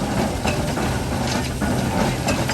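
A 13-ton agricultural steam engine drives a threshing box through a belt running between large pulleys, a continuous close clattering and rumbling of machinery with faint rhythmic knocks.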